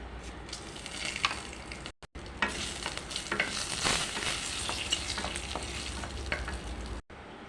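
Black cumin, dried chilli and bay leaf frying in oil in a pan, a dense continuous sizzle with stirring scrapes, briefly cut to silence twice, with no talk.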